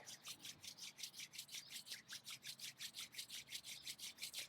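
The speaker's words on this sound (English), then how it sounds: "Begin to rub the palms together" Palms rubbing briskly together near the end of a gentle, relaxing yoga practice, a steady back-and-forth swish repeating about four times a second, close and fairly quiet, with no talking.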